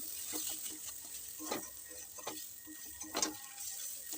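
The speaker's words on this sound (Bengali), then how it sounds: "বারে বারে নাড়তে হবে যাতে কড়ার গায়ে লেগে না যায় তো দেখো আমাদের বিট ভাজা প্রায় রেডি" Sliced beetroot frying in a wok as it is stirred, with a low steady sizzle broken by a few distinct scraping clicks of the spatula against the pan, fairly quiet and close, no talking.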